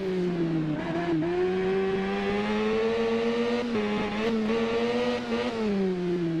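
A racing motorcycle in the game Ride holds a loud, steady engine drone, pitch rising and dipping slightly as it accelerates through gear changes, heard close and alone.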